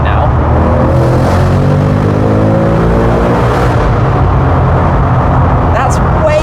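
A Ford Mustang Dark Horse engine roars loudly under hard acceleration in second gear, a rising deep exhaust note heard from inside the car with people talking over it.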